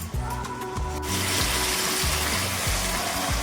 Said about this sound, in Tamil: தண்ணி வந்து எல்லா நண்டுலேயும் இப்படி ஊற்றிக்கணும் கைஸ்.